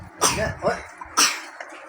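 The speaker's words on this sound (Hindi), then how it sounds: "खांसी हो रही है?" Two sharp, close coughs from a person, separated by a short pause, with a little breathy throat noise between them.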